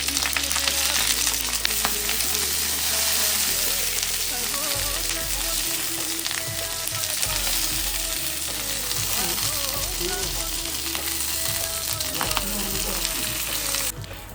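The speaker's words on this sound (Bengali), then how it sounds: "ননস্টিক প্যানের মধ্যে সর্ষের তেল দিয়ে পাতুরিটা মিডিয়াম আঁচে ঢাকা দিয়ে 10 থেকে 15 মিনিট ভেজে নেব।" Banana-leaf wrapped bhetki fish paturi frying in mustard oil in a covered nonstick pan over medium heat, a steady loud sizzle with scattered spits and pops throughout, ending in a brief sharper rattle.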